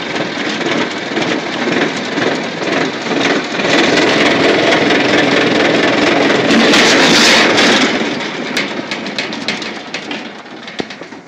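Free Murray 17.5 hp riding lawn tractor with a Tecumseh engine and 42-inch deck rolling down a hill road, giving a steady, loud rumbling drone that swells briefly midway, then eases off, with no talk.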